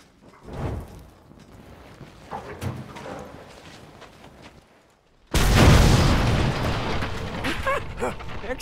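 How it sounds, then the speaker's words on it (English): A gasoline explosion in Mad Max blasts an unguarded gate open, bursting in suddenly as a loud, full boom that dominates after a quieter stretch of game sounds and voices. "One blast should split it wide open."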